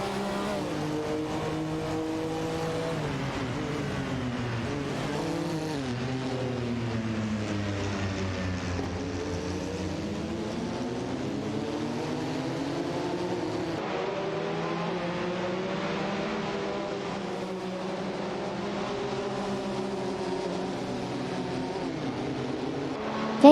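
Several engines drone and whine as race cars compete in a racing video game, Ferraris, a Mercedes-Benz and a McLaren among them, their overlapping pitches rising and falling in a steady, moderately loud blend with no break.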